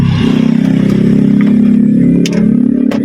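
A motorcycle engine revving loudly and close, a dense steady buzzing drone with a slight dip and rise near the end, no voices over it.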